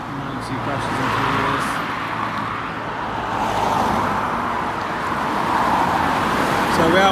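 Busy road with steady car and lorry traffic passing by a pavement in misty conditions in the UK, a continuous broadband roar swelling as vehicles go past, with a person talking over it.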